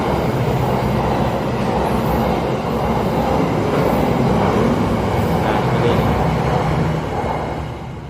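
A train rumbles steadily past, a continuous loud low roar with rattling wheels that holds for several seconds and eases slightly at the end.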